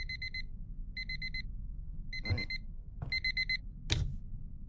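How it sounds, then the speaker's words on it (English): A horror video game alarm clock in a fog-covered setting rings in clear, evenly spaced bursts of rapid electronic beeps, with a few soft thumps and footstep-like knocks between them. "Turn off the alarm, turn on the light."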